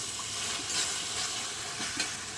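Garam masala frying in an oily spice paste in a pan, a continuous close sizzle with faint occasional stirring scrapes, even and moderately quiet.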